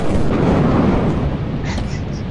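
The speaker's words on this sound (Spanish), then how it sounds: "Hay tormenta" Storm rumble in the video game Lethal Company, a dense, continuous low roar that stays loud and steady throughout, like heavy wind and rolling thunder with no distinct single crack.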